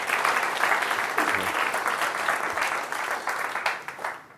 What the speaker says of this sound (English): So let's give a round of applause for Fiat Chrysler.